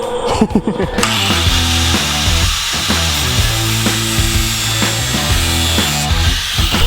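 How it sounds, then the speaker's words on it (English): Angle grinder cutting through stone, a loud, sustained, close-up grinding whine with shifting pitch as the blade bites, running steadily after a brief start-up. "They said that we had to cut that stone. Now, do you know what you're doing with an angle grinder?"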